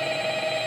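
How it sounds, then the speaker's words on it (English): Telephone ringing in the video game Five Nights at Freddy's, a brief steady electronic ring tone, loud and continuous with no talk over it. "Phone for you."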